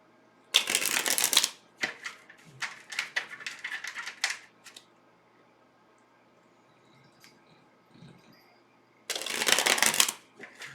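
Tarot cards riffle and shuffle up close in quick crisp bursts, pausing briefly before a final loud round of shuffling.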